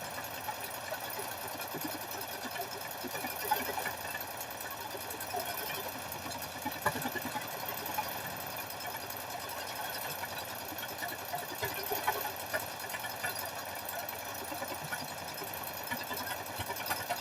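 A quilting sewing machine runs in a long, steady mechanical whir, holding an even level from start to finish with small rattles and ticks riding on top.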